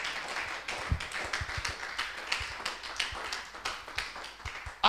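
A seated church congregation claps and taps in a loose, steady rhythm, a moderate, close patter of hands without talking.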